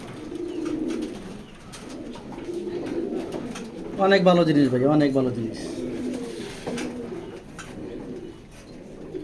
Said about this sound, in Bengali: এগুলো ভালো কবুতর ভাই